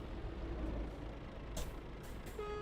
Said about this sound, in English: So prepare for my lorry to be screaming a lot.